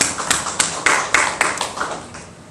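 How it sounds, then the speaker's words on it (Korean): A church congregation claps together in praise during a Sunday service, producing a rhythmic burst of hand claps with a steady beat that fades out over a couple of seconds. "하나님께 영광의 박수를 드리도록 하겠습니다."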